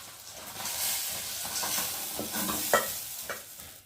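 Fish frying in oil gives a steady, close crackling sizzle with scraping stir sounds and a few sharper clinks from a utensil, with no voices.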